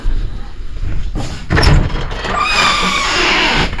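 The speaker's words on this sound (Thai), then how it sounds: "เปิดประตูเข้ามาครับ" A door opens into a tent-dome guest room at a mountain lodge, giving a loud scraping creak and knock over steady outdoor background noise.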